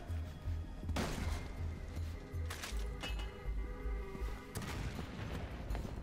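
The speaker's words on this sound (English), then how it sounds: "I'm gonna throw some grenades, so be careful." Grenade blasts in Resident Evil 6, several heavy booms with sharp onsets around one, two and a half, and five seconds, over a constant rumbling game soundtrack with low pulsing beats.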